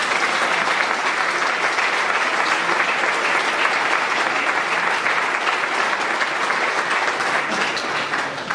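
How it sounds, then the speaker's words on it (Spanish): Sustained audience applause at a symposium on celibacy held at a sanctuary in Portugal, dense and even clapping from a large crowd, loud and continuous throughout. "E uma salva de palmas para eles também."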